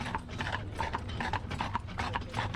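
Horse hooves clip-clop in a quick, regular rhythm as the animal pulls a buggy on a covered bridge tour, moderately faint and close, with no talk over it.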